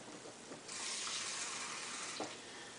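Water from a tap starts running after a brief quiet moment and then flows steadily into a sink, a soft close hiss with a small splash near the end, no speech.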